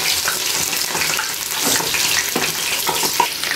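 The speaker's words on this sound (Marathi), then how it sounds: "छानसे छोटे छोटे भजे मी तेलामध्ये टाकून घेतले" Small corn fritters (bhaje) frying in hot oil in a kadhai, a dense, continuous bubbling sizzle that stays loud and close for the whole stretch.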